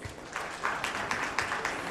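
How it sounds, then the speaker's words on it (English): An audience at an education awards ceremony gives a round of applause, with moderate clapping in uneven bursts that rises after a short pause and carries on steadily, heard from a slight distance. "I think this needs a round of applause."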